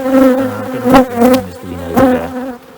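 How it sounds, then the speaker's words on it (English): Honey bees fly in and out of a hive with a close, loud, rising and falling buzz, and several individual bees swell past in passes over a steady droning hum. "They're already beginning to fly in and out of the hive"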